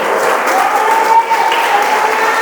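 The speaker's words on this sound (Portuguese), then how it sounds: "Se você acredita, aplauda Jesus Cristo, nosso Senhor" Steady applause from a church congregation, a dense continuous patter of many hands clapping at once, holding evenly throughout.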